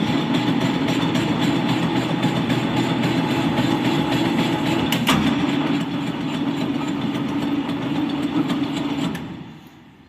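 A lathe takes a trial cut while setting up to cut a V thread, giving a steady, loud mechanical hum and rumble with one sharp click midway, then easing off and fading near the end.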